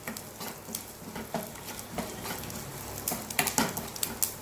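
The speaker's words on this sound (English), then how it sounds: "then a pinch of asafoetida, we are going to saute it" Asafoetida and dal tempering sauteing in hot oil, a soft steady sizzle with scattered crackles and pops and occasional stirring scrapes, fairly quiet and with no voices.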